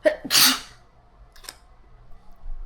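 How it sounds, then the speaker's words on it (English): A sharp, breathy sneeze bursts out near the start, followed by a short hissy catch and quiet room noise. "I tried to hold that sneeze in,"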